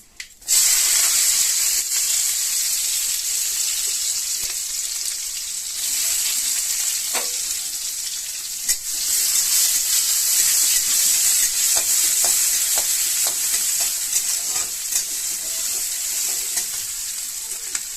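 Mustard seeds and onion frying in oil in a pan, a loud, close, continuous hiss and sizzle that starts abruptly and holds steady, with occasional light pops and spatula scrapes and no talk.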